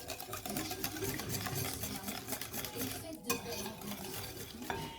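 Dough ingredients with a pinch of salt and a little vanilla being mixed for raisin pastry dough, a steady scraping and clinking of utensil against bowl running throughout, close and moderately loud, with a brief sharper knock near the end.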